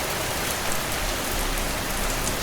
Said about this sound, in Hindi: बारिश थोड़ी धीमी हुई।